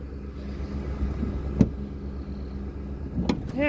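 A 2008 Ford Expedition engine idles with the hood open, a steady low rumble close by, with a couple of brief sharp clicks or knocks over the hum.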